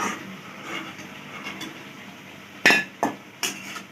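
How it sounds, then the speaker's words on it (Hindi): Fried golden mung dal pithe are moved into an iron kadhai, giving three sharp metallic clanks near the end after a quiet stretch of faint kitchen rustling. "अब इन्हें मैं इस कढ़ाई में ट्रांसफ़र कर लेती हूँ।"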